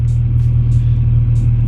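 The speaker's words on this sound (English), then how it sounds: "But there's a whole lot of traffic." Heavy low rumble of road traffic heard from inside a car, a steady engine and road drone with faint repeating ticks, close and continuous.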